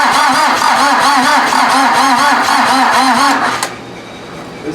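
A VW diesel engine fitted in an offroad Mazda cranks loudly and rhythmically for a few seconds with an even, repeating churn, then cuts off abruptly into near quiet.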